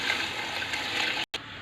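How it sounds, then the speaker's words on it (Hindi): Mutton broth (yakhni) poured into a pot of browned mutton for pulao, a steady splashing gush of liquid that cuts off briefly near the end and then resumes. "अब हम इसमें यखनी ऐड कर देंगे।"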